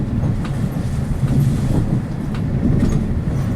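Train rolling on rails toward Leeds, a steady close rumble of wheels with faint clickety-clack from inside the carriage, continuous and unbroken.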